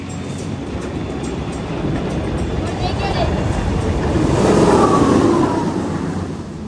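A launched roller coaster rushes along its track, a broad continuous rumble and rush that swells to a peak near the end of the ride segment, heard from on board under a speaking voice.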